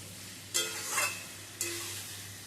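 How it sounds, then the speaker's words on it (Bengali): Fried eggs and potatoes are sautéed in poppy seed paste in a pan, with two short bursts of stirring and sizzle over a low steady hiss. "ডিম আলু দিয়ে আবারও কিছুক্ষণ কষিয়ে নেব।"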